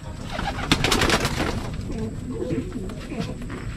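Racing pigeons coo softly and repeatedly nearby, their low throaty calls overlapping with some rustling and background noise.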